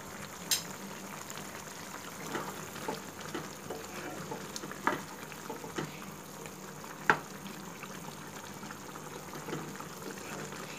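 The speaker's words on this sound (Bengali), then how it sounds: "জল দিয়ে ভালো করে মিশিয়ে এটাকে আমি কিছুক্ষণ জাল করে নেব।" Okra in mustard sauce simmers gently in a pan with added water, a faint continuous bubbling hiss broken by occasional soft pops and clicks.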